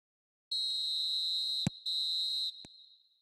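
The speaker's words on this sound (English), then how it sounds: "And there goes the final whistle." Referee's final whistle in the football video game eFootball: two long shrill blasts followed by a short third peep, clear and alone with no talk.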